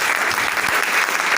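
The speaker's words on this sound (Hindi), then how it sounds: "अंकुश शर्मा सर के लिए तालियां बजाएंगे सर के लिए।" Audience applause at a seminar hall, a short burst of steady clapping from a crowd filling the room.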